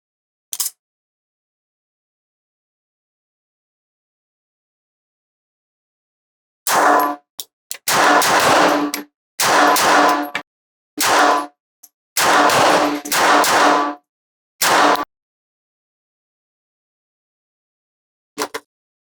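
Glock G28 pistol firing at a shooting range: one sharp shot, then after a pause a rapid string of loud, close, slightly uneven shots in clusters, and a final lone shot, with silence between groups.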